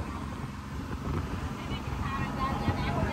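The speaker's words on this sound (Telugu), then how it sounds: "అయినా దుమ్ము లేపుకుంటా పోతుంది బోటు" A glass-bottom tour boat pushes through the sea off the Bahamas, churning up foam; a low rumbling wash of engine and water blends with wind buffeting the microphone, steady and close throughout.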